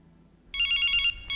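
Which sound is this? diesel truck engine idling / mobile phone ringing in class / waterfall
mobile phone ringing in class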